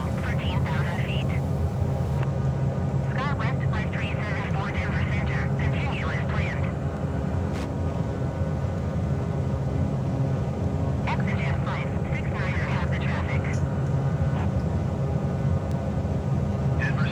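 A small airplane's engine drones steadily in the cabin on approach during a Denver to Leadville flight, a loud constant hum with a low rumble throughout, while a voice talks over it at intervals.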